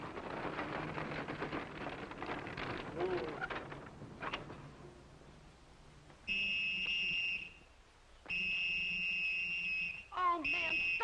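A referee-style whistle blown in long, loud shrill blasts, two sustained tones after a stretch of background voices and noise, with a short final toot.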